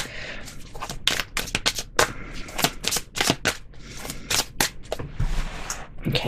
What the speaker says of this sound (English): Let me throw a couple more cards on here for you.